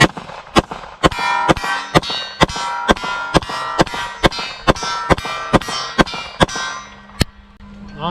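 A Glock 22 Gen 4 pistol, a police trade-in, empties a full magazine at an MGM Coyote steel target, each loud, close shot paired with a ringing metallic clang as the rounds strike steel in a steady, quick rhythm.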